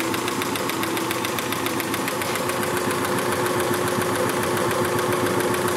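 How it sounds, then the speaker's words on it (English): A circa-1919 Hjorth lathe driven by its electric motor runs steadily throughout, giving a continuous close mechanical hum with a fine, even rhythmic chatter and no voices over it. "It's a torquey little electric motor, that's for sure."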